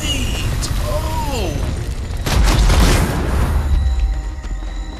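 A grenade blast in the online game Nosgoth rolls out as a deep, heavy boom midway through, following earlier whooshing sounds and sustaining a rumbling tail to the end.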